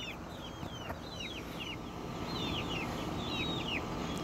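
Repeated high, chirpy clucks from young chickens, several short calls in loose succession over a steady low hum, moderately close.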